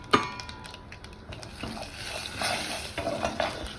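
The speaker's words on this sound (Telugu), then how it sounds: "ఆవాలు, జీలకర్ర, ఎండుమిర్చి పోపు వేసుకున్నాను." Mustard seeds, cumin and dried red chillies crackle and pop in hot oil for a tempering. A spoon scrapes and clinks against the pan between the bursts of sizzling.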